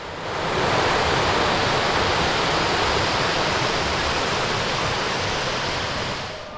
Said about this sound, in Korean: 계곡이 점점 깊어지고 물소리도 우렁차게 올라옵니다.